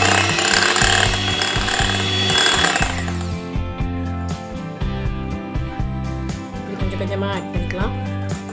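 An electric beater whips cream with icing sugar, giving a steady, continuous motor whine with a grinding edge that stays loud throughout, while a person talks over it.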